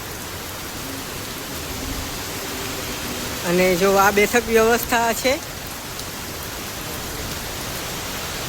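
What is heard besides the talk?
rain falling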